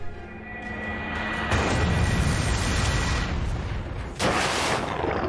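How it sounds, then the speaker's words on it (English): A heavy, booming explosion effect from the Lunar Cannon attack in the video game Manamon 2, loud and sustained across the whole stretch, with a fresh burst surging in near the end. "Faux-Pierre used Lunar Cannon."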